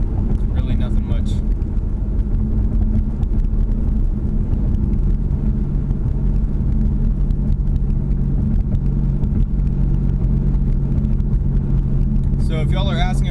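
A Ford Mustang EcoBoost's exhaust drone fills the interior while cruising at highway speed, a steady low hum and road roar that holds at an even level throughout, with a faint voice near the end.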